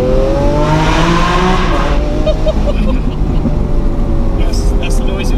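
A 2018 Lamborghini engine revving on the throttle, a loud close roar whose pitch rises and falls in sweeping bursts, with a voice briefly audible beneath it.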